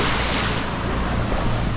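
A boat crosses open sea off Palawan, Puerto Princesa, with a steady roar of engine, wind buffeting and waves washing against the hull, loud and continuous with no voices.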